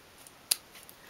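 A single quick snip of scissors cutting sewing thread while stitching a 1/12th scale dolls house door mat, close and crisp against a quiet background.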